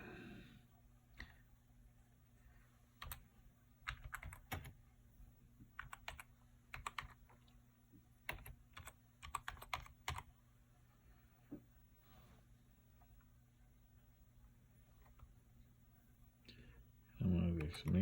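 Keys clatter in irregular bursts on an Apple keyboard connected to a Lisa computer through a USB converter, close and crisp with pauses between runs, and a voice speaks near the end.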